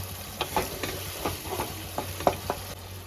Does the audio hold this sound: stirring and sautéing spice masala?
yes